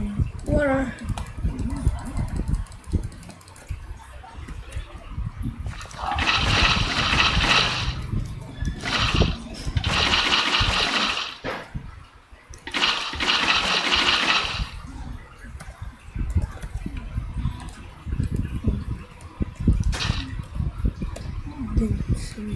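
Flowing water in Minecraft, in rushing washes that swell and fade several times over a voice talking throughout.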